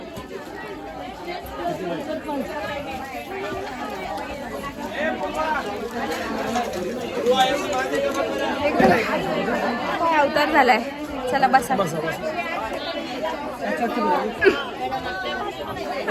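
Dense crowd chatter fills a busy saree shop during Diwali shopping, many overlapping voices close and steady throughout, with people talking nearby.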